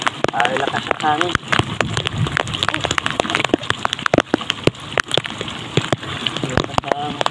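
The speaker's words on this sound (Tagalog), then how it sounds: "Lakas ng hangin at bulog." A strong wind and rain squall lashes a small fishing bangka at sea, a dense, loud, continuous roar of rain and gusting wind with sharp drop impacts throughout and voices faintly underneath.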